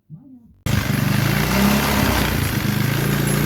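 A 90cc Chinese four-wheeler ATV engine runs close by with a loud, steady, buzzy idle that begins abruptly after a brief voice and keeps going at an even pitch.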